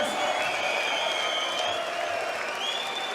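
A darts crowd at the 2017 Austrian Darts Open applauding after a checkout, with dense, loud, steady clapping and cheering throughout, and a commentator's voice faintly underneath.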